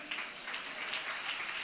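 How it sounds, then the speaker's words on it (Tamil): Congregation in a Tamil church service clapping together, a steady, moderately distant wash of applause that continues for the whole moment with no voices on top. "நம்ம இயேசுவுக்கு ஜோர ஒரு கைத்தட்டு விடுங்க"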